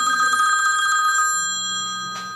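A telephone rings in a classroom during extemporaneous speeches, a loud electronic trill that chirps rapidly for about a second and then fades, with no talk over it.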